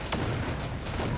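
Dense, steady gunfire crackles through a firefight in the video game Terminator Dark Fate Defiance, a continuous wash of shots with no clear gaps across the short stretch.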